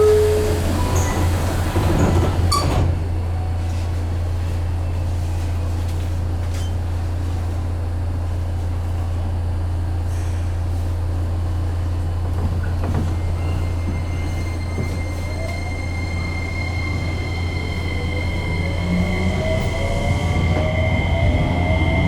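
Onboard running sound of a JR Kyushu 303 series local train between Chikuzen-Maebaru and Meinohama: a steady low hum and rumble throughout, with faint whine and clatter over the track and no talking.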